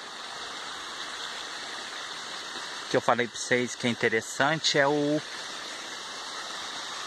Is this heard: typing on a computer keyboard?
no